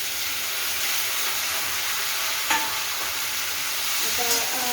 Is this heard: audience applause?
no